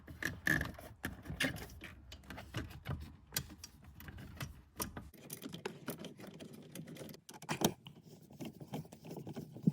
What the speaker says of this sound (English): Now putting those few bolts back in place and tightening them down too.